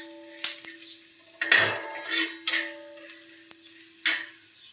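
Chillies, coriander seeds and stone flower roasting in a dry pan, stirred in several short scraping bursts with faint sizzle and occasional clinks between them, close and clear, no talk.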